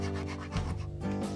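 A stainless steel toothed rasp shapes a wooden furniture part in a steady, close rubbing scrape that carries under a continuous hum. Nobody speaks.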